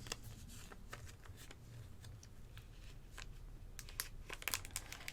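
Cards from a 1/48 Tactic 26th VG wargame starter box are handled, giving dry papery shuffles and crinkles in irregular bursts, close up and quiet, with no talking.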